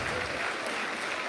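Clapping in a classroom, a short, dense burst of many hands that sounds like a roomful of students, steady and fairly loud for its brief length, with no talk over it.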